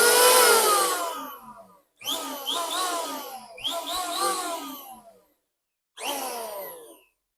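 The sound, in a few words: Dongcheng electric power planer running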